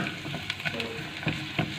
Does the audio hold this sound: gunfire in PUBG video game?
no